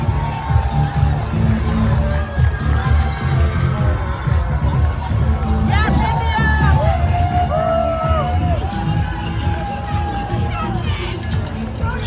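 A crowd of spectators lines the New York City Marathon route through Central Park, cheering, whooping and shouting to passing runners in a dense, continuous roar, with voices calling out over footsteps.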